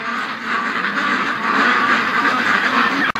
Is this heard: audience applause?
no